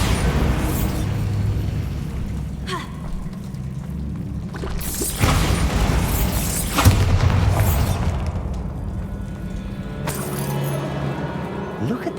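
A Confringo fire spell from Hogwarts Legacy blasts in several booming explosions over a rumbling game soundscape, with bursts recurring every few seconds.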